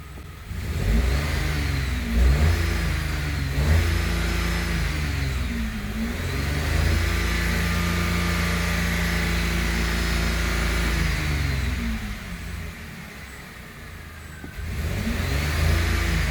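A Chevrolet Onix 1.0 turbo three-cylinder engine revs up and down repeatedly, close and loud, its pitch climbing and falling in several swells before holding a high steady rev and then dropping back.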